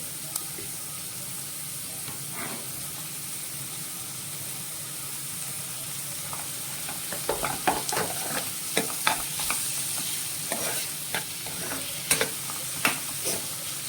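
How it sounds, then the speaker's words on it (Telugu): Tomatoes fry in a pan of hot oil and turmeric for a cucumber and drumstick curry, a steady sizzle broken in the later half by repeated scraping stirs of a spoon against the pan. "ఇలా వేగుతుండగానే టమాటాలు వేసేసుకోవాలి."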